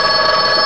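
Telephone ringing in an employment agency office, a loud continuous electric bell trill heard alone in a brief burst.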